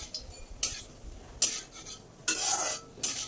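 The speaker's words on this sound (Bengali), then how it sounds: "1 মিনিট মতো ভাজা ভাজা একটু করে নিলাম" Dried red chillies and panch phoron fry in oil in a pan, a soft sizzle under four distinct stirring scrapes of a spoon against the metal, spaced roughly every second.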